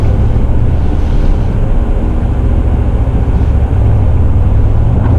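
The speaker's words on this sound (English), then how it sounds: "You hear how the engine grumbles" A 2018 Mercedes-AMG C63 S sedan's engine gives a deep, steady rumble, loud and close, holding a constant low growl with slight swells, no voices.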